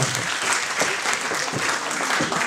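Audience applause at the closing night of the Cinémondes 2013 festival, a dense, steady crowd clapping that fills the whole moment at close range without pause.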